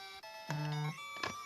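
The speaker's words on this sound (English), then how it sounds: "Oh, my phone vibrated. Did I get a message?" A phone buzzes once with a short vibrating message alert, a steady hum lasting under half a second, with faint electronic tones around it and no talking.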